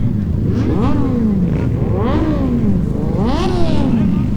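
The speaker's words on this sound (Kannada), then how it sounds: "ನೋಡ್ರಿ ಇಲ್ಲ ಹಿಂಗೆ ಗಾಡಿ ಸೌಂಡ್ ಮಾಡ್ತಿದ್ದಾರೆ" Motorcycle engines rev in repeated rising and falling surges, loud and close, with a steady rumble underneath, at the Indian Bike Week 2021 motorcycle festival in Aamby Valley, India.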